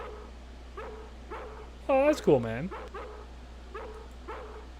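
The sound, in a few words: dog barking in the video game Harvester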